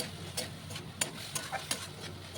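Spice masala with fried potatoes is stir-fried in oil for a Bengali koi fish curry with potato and brinjal: a soft, low sizzle runs throughout, broken by several sharp scraping clicks of the spatula against the pan.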